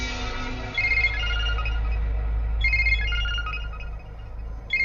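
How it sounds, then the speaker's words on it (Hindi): A phone ringtone plays in a tense Hindi action film scene, a repeating electronic melody of bright chirping notes over a low rumbling drone, moderately loud and continuous with short gaps between phrases. "फोन उठा साले।"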